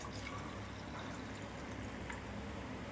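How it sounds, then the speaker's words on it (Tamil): Black coffee sweetened with palm jaggery is poured into a cup, making a soft, steady liquid trickle that is faint and continuous throughout. "ஊற்றுறேன்."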